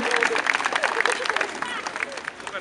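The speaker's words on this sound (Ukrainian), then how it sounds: "Аплодуємо наші актори" A crowd at an outdoor march of people in embroidered shirts in Kyiv applauds actors, a continuous wash of clapping under an announcer's voice and crowd chatter.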